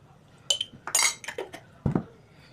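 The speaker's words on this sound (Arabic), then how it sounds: "نقلب بقى كل ده في بعض بقى كده" Metal spoon clinks and scrapes against a bowl as spices like paprika, black pepper, cumin and coriander are stirred into a stuffing mix for cabbage rolls. The sharp knocks come in a few close, irregular bursts.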